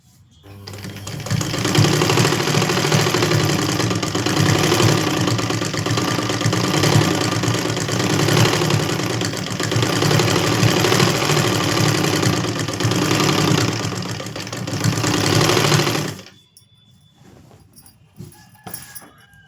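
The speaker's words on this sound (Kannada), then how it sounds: "ಇಷ್ಟು ನೀಟಾಗಿ ಇದನ್ನು ಹೊಲಿಗೆ ಹಾಕ್ಕೊಂಬರ್ಬೇಕು" A sewing machine stitches a skirt hem in one continuous, loud, fast whirring run that stops abruptly near the end, leaving faint room noise.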